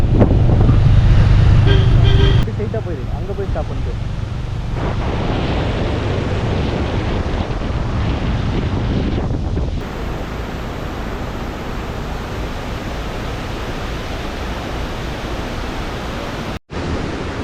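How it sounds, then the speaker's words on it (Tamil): Athirapilly waterfall during the rainy season roars as a steady, dense broadband rush that fills the whole stretch without a break, loud and close, with no voices over it. "welcome to Athirappilly water ஃபால்ஸுங்க"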